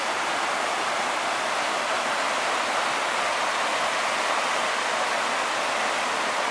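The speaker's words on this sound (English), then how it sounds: "As you can hear, that water rushing through the mountain, guys." A mountain creek in the Great Smoky Mountains rushes loudly and steadily, a dense, unbroken roar of moving water with no other sounds.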